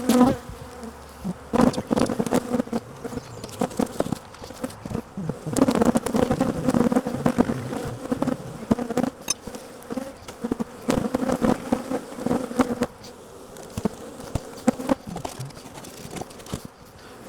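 Honey bees swarm and buzz around freshly filled, opened hive nucs stocked with brood, a dense, steady insect drone close by that swells and eases over the stretch, with no talking.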